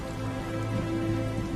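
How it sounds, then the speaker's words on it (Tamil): Heavy rain falls across Chennai in a dense, steady roar of drops beating on surfaces, loud and unbroken throughout. "ஊர் பூரா மழை பெஞ்சுக்கிட்டு இருக்கு"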